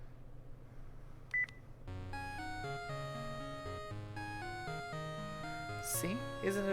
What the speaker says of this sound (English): So I secretly set it as your phone ringtone.